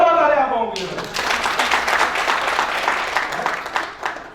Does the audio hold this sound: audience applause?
yes